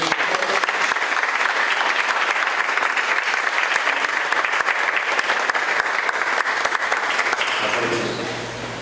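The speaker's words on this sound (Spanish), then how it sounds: "Un aplauso para el Padre." Audience applause at a church ministers' course, sustained steady clapping from a room of people that fades slightly near the end.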